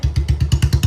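A Royal Enfield Bullet motorcycle engine thumps at idle, close and loud, a steady even beat of about eight firing pulses with no talking.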